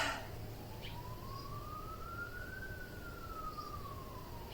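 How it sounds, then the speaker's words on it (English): A distant New Zealand police car siren slowly rises and falls in pitch in a single long wail over steady background hum. "If you didn't know what New Zealand police sirens sound like, now you know."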